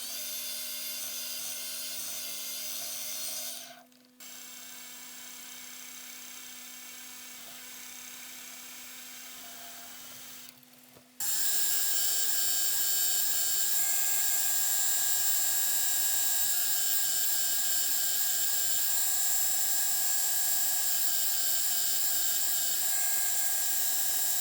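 A drill bores holes in a metal part for a homemade wobbler engine, giving a steady, high-pitched whine that briefly stops twice, then resumes louder and continues unbroken to the end.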